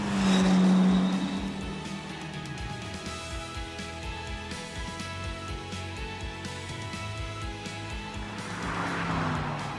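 A BMW with a V8 engine in The Grand Tour video game runs steadily throughout, a continuous engine drone that swells louder at the start and again near the end, with no voices.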